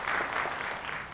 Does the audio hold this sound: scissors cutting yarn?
no